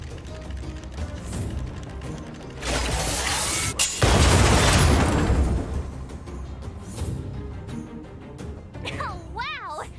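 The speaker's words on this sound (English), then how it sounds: "We wiped them all out in a single explosion!" An automaton deployed in the sci-fi game Honkai Star Rail triggers a loud, booming explosion with a sharp onset, a rumbling blast and debris noise, framed by clicking mechanical ratchets and whirring gears, with game speech around it.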